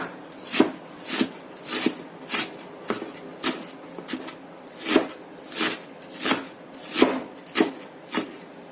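A knife chops vegetables, carrots among them, into small pieces on a cutting board while fried rice with a sunny-side-up egg is prepared, loud, close, rhythmic thuds about one every half second.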